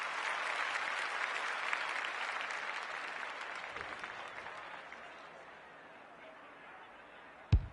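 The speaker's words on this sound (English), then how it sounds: "The crowd noise tells you all you need to know." Cheering and applause from a video game crowd after a goal in an AFL26 match swell loudly, then fade gradually and end in a brief sharp thump.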